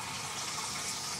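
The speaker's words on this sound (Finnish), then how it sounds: "Pannaanpa litra vettä siihen." A litre of water poured into a pot while cooking a minced-meat pasta soup, a short steady rushing splash heard on its own.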